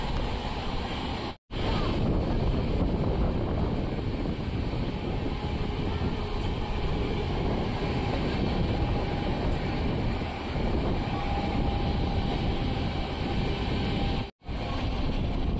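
Passenger train on the Hindupur to Bangalore route near Doddaballapura, heard from inside as a continuous loud rumble and rush of wind with two brief dropouts, no talking.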